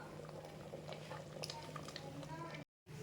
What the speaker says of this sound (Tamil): சாம்பார் நல்லா கொதிச்சிச்சுங்க.